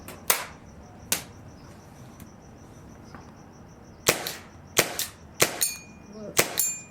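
A Tippmann M4 paintball marker converted to HPA with a new trigger group fires sharp, close cracks, two spaced single shots and then a quicker string of five or six, each with a short metallic ring, against quiet outdoor background.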